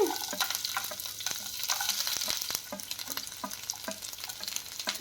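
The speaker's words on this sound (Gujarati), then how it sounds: "તો હવે આપણું તેલ ગરમ થઈ ગયું છે તો એમાં આપણે લસણ અને આદું બંને નાખી દઈએ" Garlic and ginger fry in hot oil over a full gas flame, giving a steady, close sizzle with light spoon-stirring clicks throughout.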